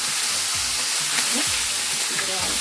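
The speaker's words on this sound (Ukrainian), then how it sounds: "Смажимо курочку." Steady, close sizzling and hissing of chicken frying in olive oil in a pan, with faint scraping and clatter from stirring throughout.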